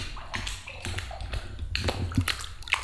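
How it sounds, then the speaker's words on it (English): Water sloshed and rippled by hand in a dark underground temple passage, soft irregular splashes and drips echoing faintly close by, with no talking. "Making waves with the water."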